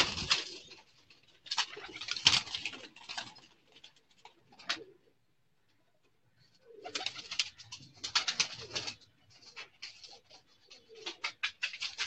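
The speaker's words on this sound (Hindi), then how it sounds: "ये बड़ा कबूतर है जी 41 नंबर, जिससे मैंने ब्रीड तैयार की।" Pigeons of the 41 number breed on a rooftop loft give low coos amid soft flutter and patter in two bursts separated by a quiet pause, fairly close and moderate in level, with no talk.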